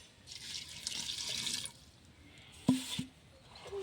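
Water being poured into a cooking pot for a greens curry, a short, faint splashing pour lasting about a second, then quiet and a couple of light clunks from the pot.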